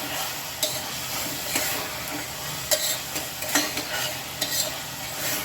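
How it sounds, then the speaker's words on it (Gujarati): Tomatoes sautéing in oil with salt give a continuous close sizzle, broken by repeated scraping stir strokes and light clatters at an uneven pace. "થોડી વાર 2-5 મિનિટ આના આવી જ રીતે તેલમાં એકદમ સોતે કરશું."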